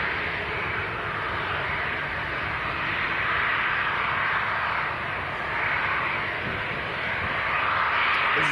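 A white Bulgarian Airways Airbus A319 on approach to Leeds Bradford Airport, a distant, steady jet engine roar that swells and fades slightly over several seconds, with no voices.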